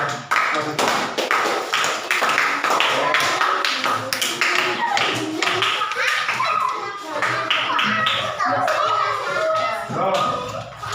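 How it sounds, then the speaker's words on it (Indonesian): A classroom of children clap for a classmate, a dense burst of many small hands slapping together in quick, uneven rhythm, loud and close, with kids' voices chattering underneath. "beri tepuk tangan untuk teman yang sudah masuk"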